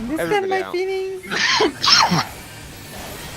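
A sneeze bursts out mid-stream during gaming chatter, two sharp breathy blasts close to the mic following speech, loud and brief.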